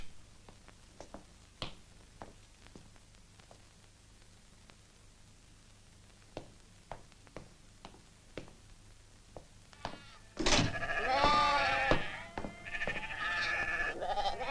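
A flock of sheep on a collective farm breaks into loud, overlapping bleating partway through, after a stretch of quiet broken only by scattered faint clicks and knocks.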